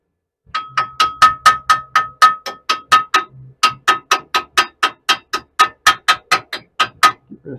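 Welding slag gets chipped off a fresh weld during metal fabrication, with about two dozen sharp, ringing metallic taps coming in a steady rhythm, close and loud, with a brief pause midway.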